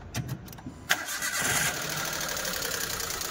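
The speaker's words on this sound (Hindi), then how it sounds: "गाड़ी हम स्टार्ट करके दिखा देते हैं आवाज़ कैसी है इंजन की" A Maruti Suzuki Alto 800 engine cranks briefly, catches, and settles into a steady idle with a ticking, tapping sound, close by and fairly loud.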